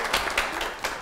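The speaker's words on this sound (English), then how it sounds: "please clap for these two" Studio audience clapping for two guests on a Kenyan TV talk show, a dense steady patter of many hands with a few sharper bursts, close and fairly loud.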